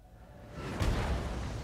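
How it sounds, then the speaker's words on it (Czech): A catapult boulder hurtling through the air in the battle strategy game Total War: Warhammer 2, a low, rising whooshing roar that swells near the middle and then sustains, with no talk. "To správně hučí ten šutr, když letí."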